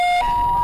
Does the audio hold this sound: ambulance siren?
yes